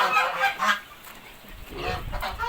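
Geese honking nearby on a poultry farm, several separate harsh honks in an irregular sequence, with no talking.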